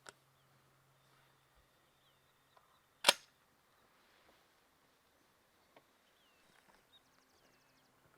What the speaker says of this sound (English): we're going to shoot the Apex 3-inch, 1 5/8 ounce, number 9 shot